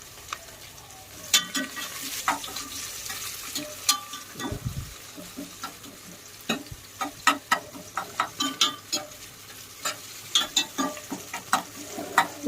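Onions frying in oil with whole garam masala in a pan for a simple veg rice: a soft steady sizzle runs underneath while a spatula scrapes and clicks against the pan in irregular bursts.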